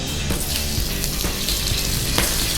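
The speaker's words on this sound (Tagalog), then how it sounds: "We have hot pan here. Then we're just gonna put some oil." Oil sizzling loudly and steadily in a hot pan while kimchi and pork belly are being cooked, a dense crackling hiss with no talk over it.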